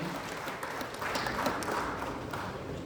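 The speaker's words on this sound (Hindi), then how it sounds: "हम इनका जोरदार तालियों के साथ अभिनंदन करते हैं, स्वागत करते हैं" A kavi sammelan audience gives a poet a loud, continuous wash of applause as he takes the stage, many hands clapping together in a dense, sustained roar.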